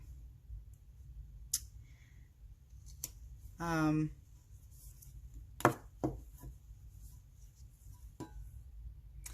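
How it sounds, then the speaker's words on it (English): Electrical tape pulled off the roll and wrapped around the threaded neck of a flask: a single loud tearing zip, then scattered close clicks and handling noises, with quiet speech. "I'm going to tape off this part where the top screws in. And again, I'm using electrical tape."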